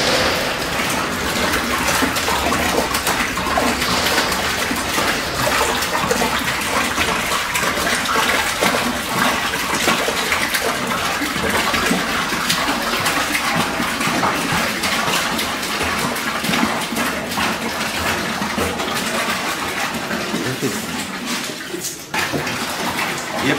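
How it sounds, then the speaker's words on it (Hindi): Demineralised battery water pours steadily into the tank of a product-making machine, a continuous splashing, gushing fill heard up close and loud without a break, tapering slightly near the end. "ये पानी हमने इसमें इंसर्ट डाल दिया है, फिल कर दिया"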